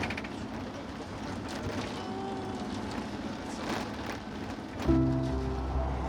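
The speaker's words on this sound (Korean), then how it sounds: "그리고 이내 소나기까지 내린다." A sudden rain shower with gusting wind in Antalya, Turkey, heard as a continuous hiss of falling rain and rushing air, with a heavier low rumble swelling near the end.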